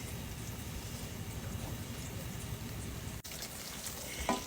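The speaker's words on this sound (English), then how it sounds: "once this comes to a rolling boil, you want to boil it for 10 minutes" Caramel candy mixture boiling in a pot on the stove at medium heat, giving a steady, dense bubbling hiss that runs continuously, close and even, with a small clink near the end.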